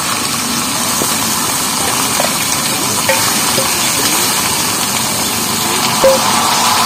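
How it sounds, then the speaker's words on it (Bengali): Masoor dal and taro frying with spices in a pan, a steady close hiss of sizzling oil with faint stirring scrapes throughout. "আর এই ডালটা কচুর মধ্যে দিয়ে ভালো করে ডালটাও কষে নেব।"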